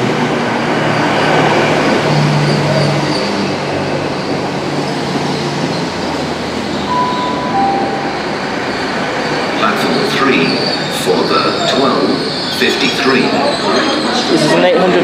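A Class 800 train rumbling close by as it pulls into a station on the Dartmoor Line, with brief metallic squeals and clicks near the end and a bright tone partway through.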